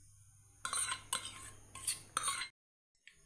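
Spoon clinks and scrapes against a bowl as curd goes onto gopalkala, a Janmashtami dish, in four close bursts over about two seconds, then silence.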